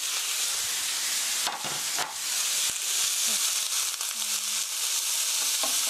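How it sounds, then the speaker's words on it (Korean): Sliced onions stir-frying in a pan for a soybean paste sauce rice bowl give a steady, loud sizzle and hiss, broken by a few scraping stirs and clinks, with no talking. "stir fry"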